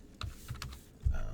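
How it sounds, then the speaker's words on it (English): A computer keyboard being typed on, a few quick close keystrokes in an uneven rhythm, ending in a heavier thump, with no talk over them. "you can keep typing 9s and eventually beat it"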